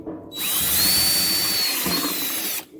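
A power drill whines steadily for over two seconds at high speed, loud and close, drilling a hole while fixing an old gas can, starting and stopping abruptly.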